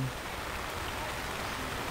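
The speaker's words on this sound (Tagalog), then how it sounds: "So pagka tumuloy-tuloy ang ulan," Steady rain falls outdoors during a search for a missing student, making a constant broadband hiss with no breaks and no speech.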